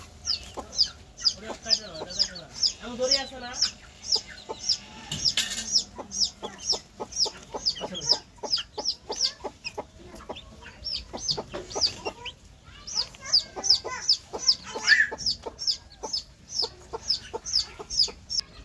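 A village desi hen clucks repeatedly and rhythmically while her chicks keep up a constant high peeping close by, with a few brief louder squawks.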